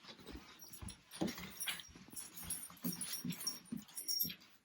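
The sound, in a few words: dog Sylvie whimpering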